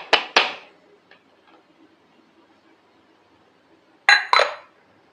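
Steamed puttu lifted from its steamer and moved onto a plate, heard as sharp metallic clinks and scrapes in two pairs at the start and again near the end, with quiet faint handling in between and no talk.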